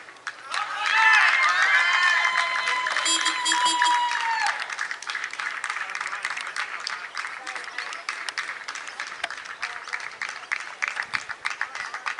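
Vigorous applause ripples across a suburban cricket ground after a batsman reaches his century in a grade match, dense clapping rising quickly then thinning into scattered claps, heard from a distance with faint talk underneath.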